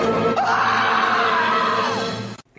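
A loud, sustained shriek serves as an answering machine tone, holding steady for about two seconds before cutting off abruptly.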